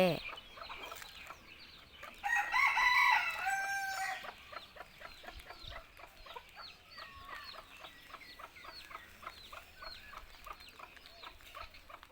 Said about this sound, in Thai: อันนี้ไก่แม่ลูกอ่อนนะคะ ตัวเล็กๆ น่ารักน่ารัก